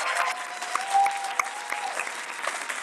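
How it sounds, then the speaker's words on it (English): An audience at a COP26 Coalition opening event applauds as a speaker is welcomed on stage, a dense, lively patter of clapping that swells briefly in the middle, with faint cheering mixed in. "and a big applause for him"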